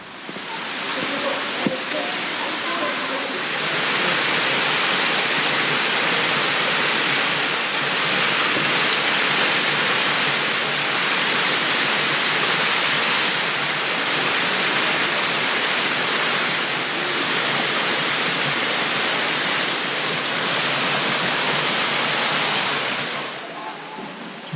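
Water pours steadily over the rocks at Somersby Falls in Bouddi National Park, a loud, dense broadband rush filling the scene up close for over twenty seconds, with a faint voice audible briefly near the start before the roar swells.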